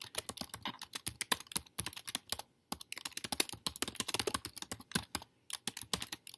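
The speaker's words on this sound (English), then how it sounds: "So I'm just going to type in a little introduction." Rapid, uneven keystrokes on a computer keyboard while an introduction is typed, close and crisp, coming in bursts with a few short pauses and no talking.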